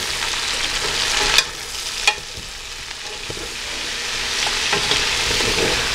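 Onions and carrots sizzle and fry in bacon fat in a pot, a steady close crackle with a couple of sharp clanks of stirring near the start, no talk.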